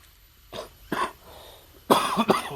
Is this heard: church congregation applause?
no